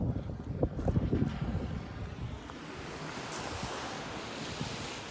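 A vehicle plowing through a creek in southwestern Iceland, a rushing splash and churning water that surges early then settles into a steady wash, mixed with wind buffeting the microphone.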